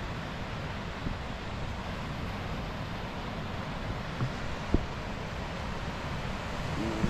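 Rough ocean waves wash and roar continuously alongside gusty wind buffeting the microphone, a dense, even rush of noise with no voices and only a few faint knocks.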